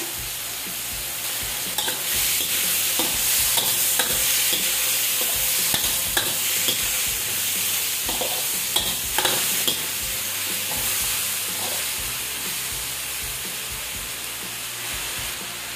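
Squash and French beans sizzle steadily in a hot pan while being stir-fried, with a constant frying hiss and the scrape and clatter of stirring throughout.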